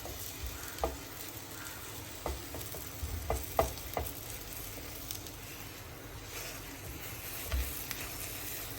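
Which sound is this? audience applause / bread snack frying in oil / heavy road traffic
bread snack frying in oil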